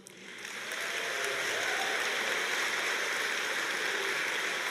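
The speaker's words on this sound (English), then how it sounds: "I applaud you." A large crowd at a university commencement applauds computer science graduates, steady dense clapping that swells within the first half second and holds as a continuous wash.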